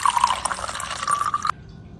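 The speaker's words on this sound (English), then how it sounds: "Now pour some water into a bowl." Water trickles and drips into a container for about a second and a half, then stops abruptly, leaving near silence.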